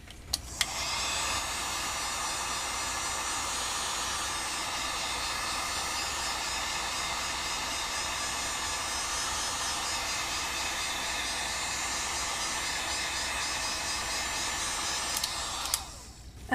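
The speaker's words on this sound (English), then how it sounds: "you're going to hear my heat gun" Heat gun blowing hot air to dry stamping ink, a steady, loud whooshing whine that starts abruptly, holds constant for about fifteen seconds and then cuts off, alone without talk.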